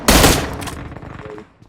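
A video game gun fight lets off one short, loud burst of gunfire that fades away quickly.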